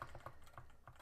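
Typing on a computer keyboard while editing code in Vim, a handful of soft, evenly spaced keystrokes close by in a quiet room.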